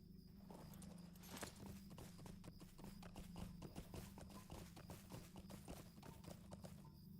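Horse hooves clip-clop in a steady walking rhythm in the game Lord of the Rings Online, over a low background hum, the footfalls quiet and evenly spaced.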